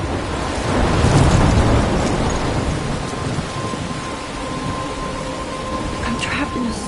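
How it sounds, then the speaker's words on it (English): A thunderstorm in Life is Strange: a low rolling rumble of thunder swells early, then fades under steady, dense rain hiss that continues throughout, loud and enveloping. "I'm trapped in a storm?"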